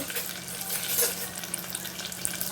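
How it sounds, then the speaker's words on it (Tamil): Tomato, garlic and onion sauté in a pan for a fish curry, giving a steady close frying hiss with faint crackles and spatters throughout and no voices. "நல்லா வதங்கட்டும்"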